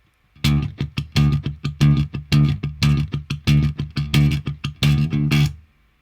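A punchy, distorted bass riff thumps out in a steady rhythm of short repeated notes, loud and close, ending abruptly.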